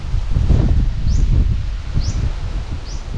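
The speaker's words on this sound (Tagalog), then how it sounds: "malakas ang hangin" Strong wind gusting steadily through eggplant plants outdoors, a loud continuous low buffeting roar of wind noise with rustling leaves and a few faint bird chirps above it.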